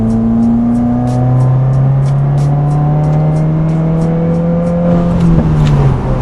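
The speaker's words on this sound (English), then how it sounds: "it is backfiring now when I'm shifting gears, accelerating" A car with an Accessport tune accelerates hard onto a freeway, running from third up to sixth gear, with a loud, steady engine drone that climbs in pitch and then drops at a gear change; the engine is backfiring on shifts.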